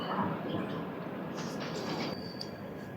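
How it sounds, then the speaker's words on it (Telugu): Godavari Express at Tadepalligudem railway station, a low rumbling of the train with faint metallic squeaks and hiss in the background, fairly quiet and continuous. "తాడేపల్లిగూడెం రైల్వే స్టేషన్ ఇది."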